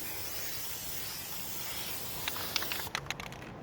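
Spray paint hisses in a continuous close spray onto a light fixture, followed by a few short bursts and light clicks near the end.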